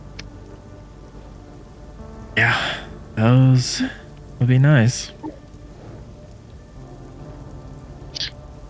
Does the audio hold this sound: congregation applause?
no